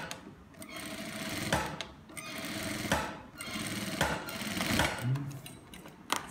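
Close and fairly quiet, a sewing machine runs almost continuously with a rhythmic mechanical pulse as it stitches a zipper into palazzo trousers.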